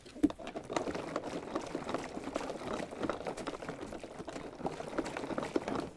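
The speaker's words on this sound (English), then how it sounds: "you just put it in there, put your tap on, and agitate well" A herbicide mixture is agitated in a sprayer tank, and liquid churns and sloshes with a bubbling, gurgling patter. The sound goes on steadily at a moderate level with no talking.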